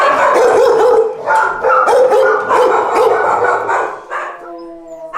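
Rescued female dog at a veterinary hospital barks loudly and repeatedly at close range, with sharp yips and whimpers, then quiets as a person speaks briefly near the end.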